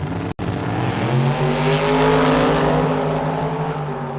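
Drag racing cars, a 1966 Ford Mustang and a 1968 Camaro, roar down the track in a loud sustained engine howl after a brief cut, the sound steady and close with rising pitch as they accelerate.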